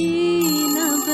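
A telephone ringtone sounding in an audio drama: a steady, loud, close electronic ring with a sustained tonal chime that shifts slightly in pitch, heard alone without speech.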